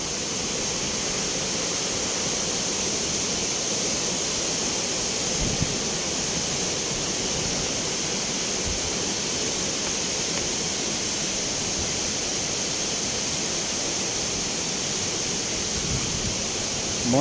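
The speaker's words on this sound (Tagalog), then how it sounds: "Kimatahay Falls." Kimatahay Falls in Lilingayon pours in a steady, broad roar of rushing water that carries on unbroken and loud, with no voices over it.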